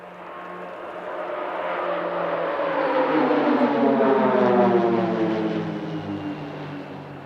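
A team of PC-9 propeller aircraft flies a looping diamond formation at an airshow in Leszno, Poland, a steady droning engine roar swelling as the planes pass overhead, then slowly fading, with no talk.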